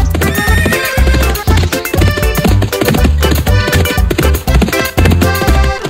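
A cartoon horse, a Percheron champion on a farm, neighs and whinnies with clip-clopping hooves, loud and continuous over a busy musical backing with a driving beat.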